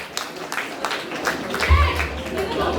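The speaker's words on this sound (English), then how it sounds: "A big round of applause" A crowd gathered for a school alumni meet claps for performing students, a dense spread of hand claps with a low hum and murmured voices underneath, steady and moderately loud throughout.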